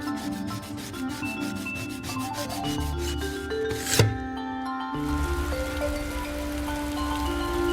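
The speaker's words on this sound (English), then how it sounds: "I'm going to scrape off the old varnish and rinse and repeat" Old varnish being scraped off wood in a repair workshop, a continuous gritty rubbing and rasping close by with repeated strokes, one brief sharp scrape midway, steady and unaccompanied by talk.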